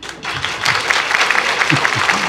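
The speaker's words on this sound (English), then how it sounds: "I'd like to invite everyone to give a round of applause to one of the most energetic and enthusiastic MC I have ever come across" An audience at a resource circulation conference applauds the MC with a dense burst of clapping that begins abruptly and holds steady, with a few voices faintly underneath.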